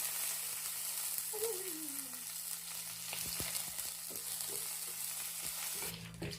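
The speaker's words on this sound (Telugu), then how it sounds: "ఈ తాలింపు అయితే కొద్దిగా లైట్గా ఫ్రై అయిన తర్వాత ఎండుమిర్చి కూడా వేసుకుందాం" Oil sizzles with a soft, steady hiss as tempering spices and dried red chilies fry, scattered light pops and clicks of stirring, and a faint low hum underneath.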